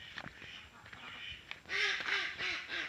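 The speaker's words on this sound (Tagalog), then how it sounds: "pupunta tayo sa ating kulungan ng mga itik dahil parang nandyan na sila umuwi na." Ducks returning to their pen quack several times, moderately close, the calls growing louder and repeating toward the end amid faint background noise.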